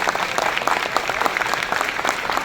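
An audience at a Mahabharat stage play fills the space with loud, dense, continuous applause, many hands clapping at once without a break or any voices.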